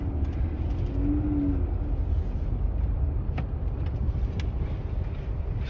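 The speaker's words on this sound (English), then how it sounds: "now I'm driving out on a road that I shoveled myself" Car driving out slowly along a hand-shoveled snowy road, a steady low engine rumble with wind buffeting throughout and a couple of faint ticks, no voices.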